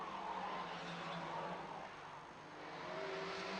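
Volvo touring cars racing at the 1986 Brno circuit event, a steady broadband engine roar from cars passing at a distance, with a slight dip and swell as they move along.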